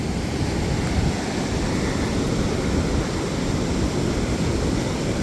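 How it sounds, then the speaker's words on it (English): Ocean waves breaking on a beach during an evening walk, a continuous loud wash of surf with wind noise buffeting the microphone and no distinct individual wave crashes. "Some nice, beautiful waves out there for right now for catching paddleboard"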